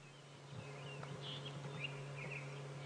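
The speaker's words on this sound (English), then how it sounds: "One or two robins." Faint robin calls, a few thin whistled phrases, drift over a quiet outdoor background with a steady low hum, on an early-morning safari drive.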